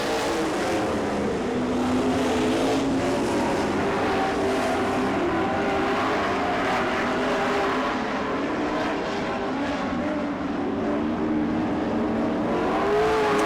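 Race cars at the PDTR track roar past in a continuous, loud engine drone, with several cars' overlapping revs rising and falling as they push into the corners.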